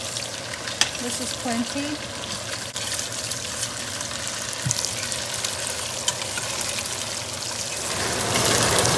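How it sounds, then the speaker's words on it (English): Onions frying in a pot for egusi soup sizzle steadily while tomato paste goes in, with a brief stir and a few light knocks; a voice speaks briefly over the continuous close hiss. "So my onions are a little fried. I'm going to go ahead and put my tomato paste."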